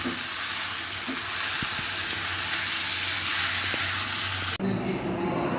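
Goat meat sizzling in a hot pan, a loud steady frying hiss with faint stirring knocks throughout, cutting off abruptly near the end.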